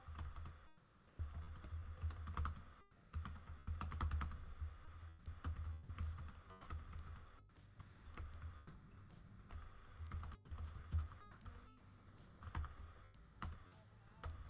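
Rapid clattering keystrokes on a computer keyboard, typed in irregular bursts with short pauses, close and steady for the whole stretch, no voices.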